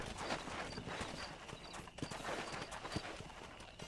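A horse's hooves clip-clop in Red Dead Redemption, a steady walking rhythm of quiet, distinct hoofbeats with faint background ambience.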